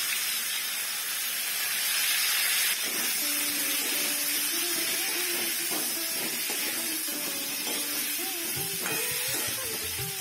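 Potatoes fry in hot oil with turmeric, giving a continuous broad sizzling hiss that swells and steadies, with faint background tones underneath.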